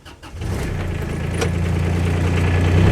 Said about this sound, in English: I've got to start the old engine and get around.